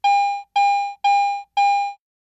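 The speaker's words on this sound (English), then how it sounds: "non-ferrous items with medium to high conductivity produce a bell tone" A Garrett AT Pro metal detector in standard mode gives its bell tone for a non-ferrous, medium-to-high conductivity target such as a coin or jewelry: four identical ringing chimes, evenly spaced, each about half a second, clear and alone.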